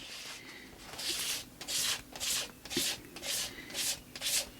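A tool scrapes through wet gesso paint on collage paper in about eight rhythmic rasping strokes, close and fairly quiet, with no talking.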